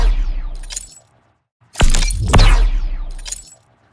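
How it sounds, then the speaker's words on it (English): A recreation of the Doom Eternal BFG-9000 weapon sound, built entirely from recordings of a single key. Loud, layered bursts swell and crash with a shattering, glassy sweep, then a booming low rumble, with a short silence between the blasts. "here is our finished BFG-9000 sound"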